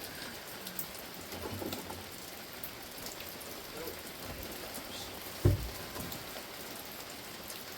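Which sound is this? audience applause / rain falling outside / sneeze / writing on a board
rain falling outside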